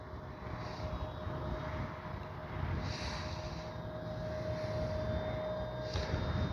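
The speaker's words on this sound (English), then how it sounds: "I got to try to keep the plane in low" An FMS 1500mm Skylane RC model airplane flies low in a crosswind, its electric motor giving a steady droning whine with a constant tonal hum under outdoor wind noise.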